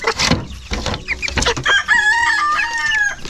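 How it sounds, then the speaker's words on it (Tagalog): A rooster crows loudly nearby, its drawn-out call ringing over scattered clucking from chickens. "Manok."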